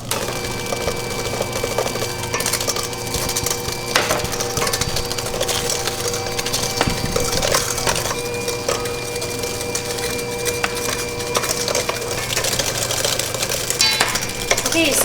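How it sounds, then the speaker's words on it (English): An electric mixer beating a cup of sugar into batter at low speed, giving a steady, close, continuous whirring grind with faint rattling throughout and no talk. "I'm gradually going to beat in a cup of sugar. I'm going to do it at low speed"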